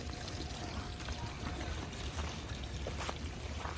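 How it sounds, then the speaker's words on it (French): Water pouring and splashing down into terraced rice paddies in Pai, Thailand, a steady close rushing flow that fills the whole clip without pause. "Bon, on voit pas le tuyau, mais l'eau se jette là parce qu'on l'entend."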